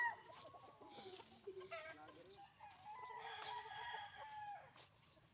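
A gamefowl rooster at a game farm crows a couple of times at moderate distance, its drawn-out calls mixed with clucking hens and faint voices in the background.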